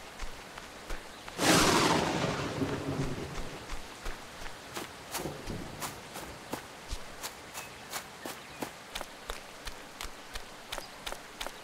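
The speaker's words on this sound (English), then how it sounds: "Oh, that thunder. Good sound effects." A sudden loud thunderclap with a decaying rumble in the Farmers Life video game, followed by a steady series of evenly spaced footsteps over a faint background of rain.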